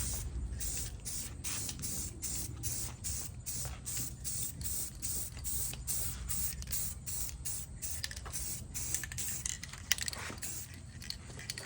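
Spray paint hissing in rapid short bursts as a first coat goes onto a Mega Moto 80 minibike frame, close and steady, with brief gaps between passes and a low background hum.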